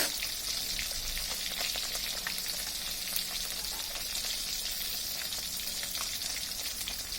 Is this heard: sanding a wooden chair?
no